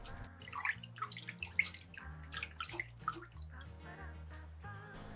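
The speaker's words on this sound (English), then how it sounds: "add the rice and wash it to release the excess starch" Cooked rice is rinsed in a sieve under water in a home kitchen, with soft splashing, trickling and dripping heard quietly and up close, no talking.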